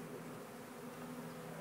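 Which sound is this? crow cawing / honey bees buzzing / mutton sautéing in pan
honey bees buzzing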